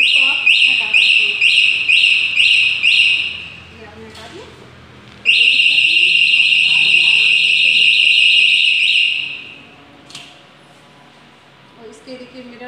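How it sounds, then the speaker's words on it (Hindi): Anti-theft alarm on an E Future electric scooter, a loud, shrill electronic siren that wails in two long bursts with a brief pause between, then cuts off, leaving faint background noise. "तो ये आपका अलार्म बजता है इसमें, तो कोई गाड़ी आपकी स्टार्ट नहीं कर सकता, ये ऐसे पूरा अलार्म बजेगा।"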